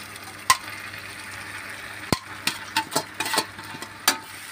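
Poha tipped into a pan of frying onions and boiled potatoes, a soft steady sizzle broken by sharp clinks and scrapes of a spoon stirring, close up and without talk.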